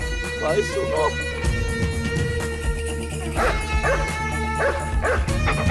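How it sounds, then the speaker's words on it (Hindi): A dog barks and yips in repeated short bursts at close range, mixed with a voice and background music. "अरे कुत्ता क्यों भौंक रहा है?"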